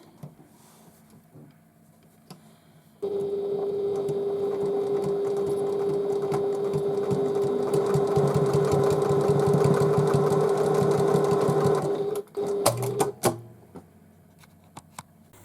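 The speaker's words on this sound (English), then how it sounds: "Open them up and fold them back again, and top stitch across." A sewing machine runs steadily for about nine seconds while top stitching a tote bag, a fast even whirring hum that starts abruptly, then stops and is followed by a few brief clicks and handling sounds.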